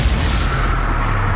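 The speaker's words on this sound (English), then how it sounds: "Rookwoods don't go down eating Incendio!" Dense rumbling explosion of an Incendio fire spell during combat in the video game Hogwarts Legacy, loud and continuous with a broad roaring blast.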